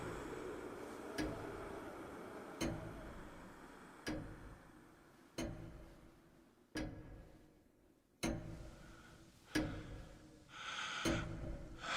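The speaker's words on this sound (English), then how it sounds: "An endless empty room, no sounds but the ticking of a clock" A clock ticks slowly and steadily in an empty room from a Christmas Carol film, with single clear ticks about every second and a half over a low hushed background and faint breathing.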